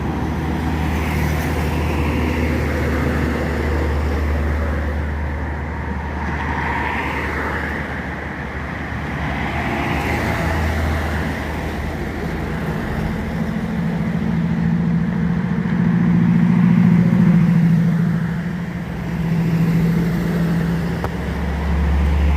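Convoy of trucks, including a Tronton, passing on a road near Palembang, a continuous heavy engine rumble and tyre roar that swells and fades as vehicles go by, loud and close, with no talking.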